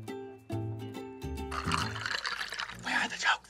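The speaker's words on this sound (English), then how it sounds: "Pour some water." Water pours into a pot of rice for cooking, a splashing, trickling stream that starts after a few sustained musical notes and grows busier, with brief bursts near the end.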